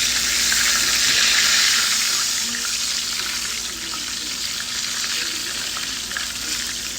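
Pieces of fish, with carrots alongside, frying in hot oil for a quick fish fry, giving a steady loud crackling sizzle that holds throughout without any talking.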